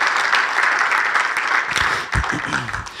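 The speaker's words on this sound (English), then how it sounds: "You can applaud for that." Audience applause at the 2019 Pickleball Hall of Fame induction ceremony, a full wash of clapping that thins out near the end as a voice starts speaking.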